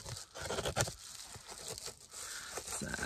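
Fabric window covers gone moldy being cut off inside a camper van, giving close tearing and crinkling sounds in irregular bursts, fairly loud and with no talk.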